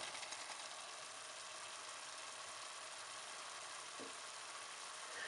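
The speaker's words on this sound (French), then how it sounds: "après 5 minutes de cuisson, je vais rajouter le foie." Lamb liver frying in a pan with water and seasonings, Moroccan style, giving a steady, fairly faint hiss of sizzling with one soft knock near the end and no talk.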